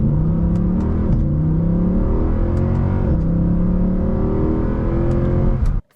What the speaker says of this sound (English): Floor it at every single stoplight.